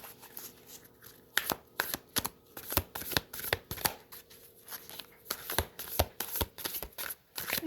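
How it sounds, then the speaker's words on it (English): Matte finished tarot cards being overhand shuffled, close and crisp, with repeated papery slaps and riffling bursts in an uneven rhythm. "It does okay for overhand shuffle."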